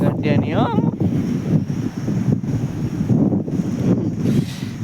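Strong wind buffets the microphone on a farm with loud gusting rumbles that rise and fall throughout, and someone talks over it.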